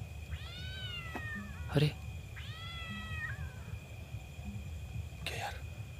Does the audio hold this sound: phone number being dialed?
no